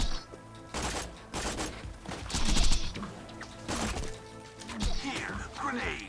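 Enemy gunfire from the video game Borderlands 2 cracks out in scattered bursts and impacts over a busy game soundscape, loud and fairly close, with game dialogue mixed in.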